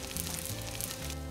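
Sweet potato shrimp toast fries slowly in a pan over low heat, giving a soft, steady sizzle and faint crackle that continues evenly throughout without speech.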